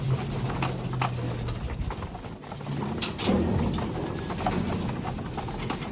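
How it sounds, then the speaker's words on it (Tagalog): Pigeons in a loft or cage cooing softly amid rustling and faint clattering movement, a close, low murmur of several birds with no voices. "Anong klaseng mga kalapati to?"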